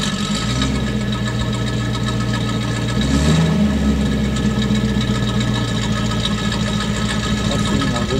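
A 1967 Ford Mustang convertible with its 4.7-litre V8 idles close by, a steady loud rumble with a slight swell around the middle, continuous throughout.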